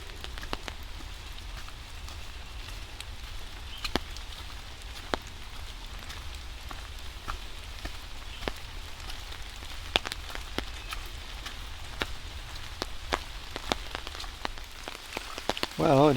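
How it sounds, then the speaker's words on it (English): Rain falls steadily in a wooded park, a constant soft hiss with frequent sharp drips and taps of drops hitting nearby surfaces. "it has not stopped raining the whole time"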